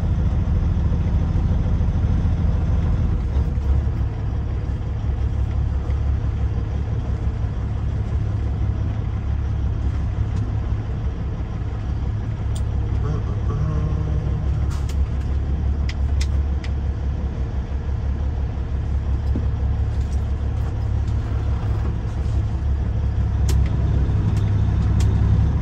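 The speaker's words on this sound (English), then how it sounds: "Oh, it's a freight liner." A Freightliner truck's engine idles and then moves off in a steady, close, low diesel rumble that continues for about 25 seconds, with no one talking over it.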